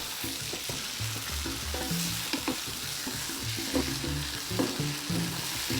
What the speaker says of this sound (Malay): Masukkan beberapa keping nanas yang telah kita potong tadi dan kacaukan sehingga sebati dengan nanas tersebut